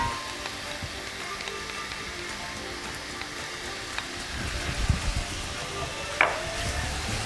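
Onions and carrots softening in a pan with tomato paste being stirred in give a steady, fairly quiet sizzle, broken by a few soft scraping and knocking sounds from stirring.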